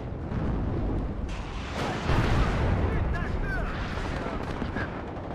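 M110 artillery firing in a video game battle, heavy booming blasts over a dense, continuous rumble of combat noise with layered distant gunfire throughout.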